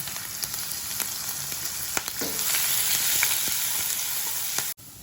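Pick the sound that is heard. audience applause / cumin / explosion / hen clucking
cumin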